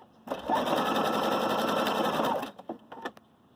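A Viking Designer Brilliance 80 sewing machine stitches a zigzag, its motor whirring steadily and loudly for about two seconds before stopping, followed by a few light clicks and knocks.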